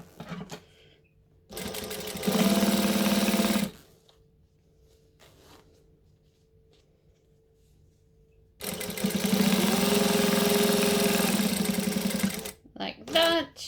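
A sewing machine stitches down the folded-over end of a bag at an eighth-inch seam, running loud and close in two sustained bursts separated by a quiet pause, with brief clicks after the second run.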